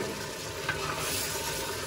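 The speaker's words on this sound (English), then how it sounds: "Now I'm gonna add the potato." Potatoes added to a sizzling pot of goulash are stirred, giving a steady, close frying hiss with soft scraping movement throughout and no voices.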